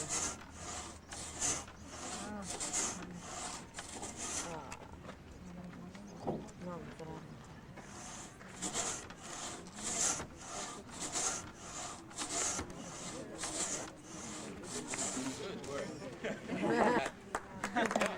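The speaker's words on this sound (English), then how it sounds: "you keep on sawing until you hit the other trestle" Wood is sawn by hand on trestles, a rhythmic rasping stroke repeating steadily and fairly close, with people talking over it at a historic village.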